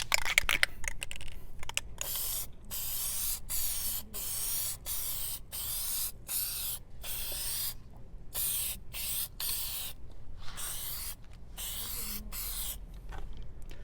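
Aerosol can spraying Plasti Dip rubber coating onto lettering and emblems outdoors in hot weather, a steady close hiss in many short and long bursts with brief pauses between passes.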